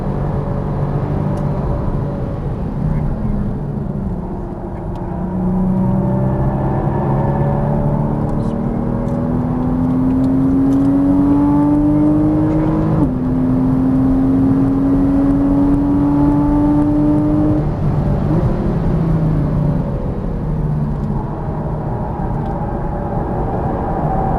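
A Porsche Cayman S engine drones loudly on a race track under braking and cornering, its steady whine climbing in pitch, dropping and climbing again.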